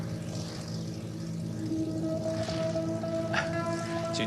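A motorcycle pulling a cargo trailer approaches on a road in Uzbekistan, its engine a steady droning hum with tonal harmonics that grows somewhat louder and nearer over a few seconds, with no talk.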